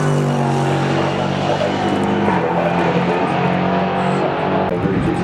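LMP3 prototype race cars in the Henderson Insurance Brokers LMP3 Cup at Donington Park, engines droning loud and steady with shifting pitch as cars pass close by, a continuous dense roar.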